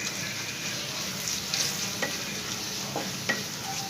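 Turmeric powder stirred into sautéed onions in a hot pan, heard as a continuous crackling sizzle with a few light spoon taps and scrapes scattered through it, close by and steady.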